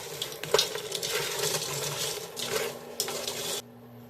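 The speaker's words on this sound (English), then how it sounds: "So I'm going to stir it up and we're going to let it cook down on our stove." A spoon stirring thick blueberry pie filling in a pot on a stove, with soft scraping and bubbling sounds and a few light clinks against the pot, quiet and close, ending suddenly.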